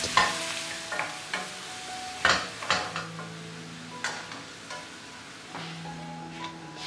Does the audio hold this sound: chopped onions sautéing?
yes